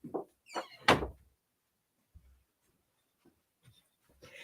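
A bedroom door being pushed shut, producing a short series of close thuds and scrapes at the start, then quiet with a few faint small knocks, with no voices.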